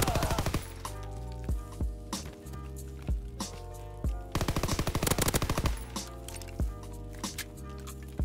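Gunfire from a Call of Duty WW2 gunfight crackles in sharp bursts, with single shots and short rapid automatic strings spaced between pauses and a dense volley in the middle, all over a steady musical backing.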